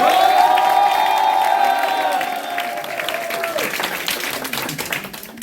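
An audience at a party youth committee launch event applauds. A loud musical fanfare dominates the first few seconds, then dense clapping carries on alone as it fades.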